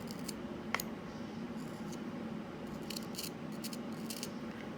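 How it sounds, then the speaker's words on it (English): A small carving knife trims petal sections out of a radish being shaped into a sunflower, giving a few faint crisp cuts and scrapes close up against a steady background hiss. "tuck your knife, curve, and trim off the section"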